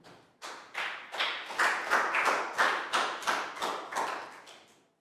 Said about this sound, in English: And a round of applause, everyone,